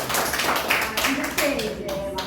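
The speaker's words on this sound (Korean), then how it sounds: "박수." A small group at a lecture for older adults claps briefly, with sparse uneven hand claps, while people talk over and around them.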